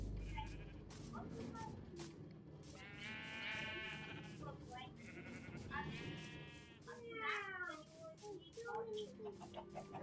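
Sheep bleat repeatedly at a small multicoloured sheep farm in Minecraft, several overlapping calls close by, mixed with clucking chickens and ambient game noise.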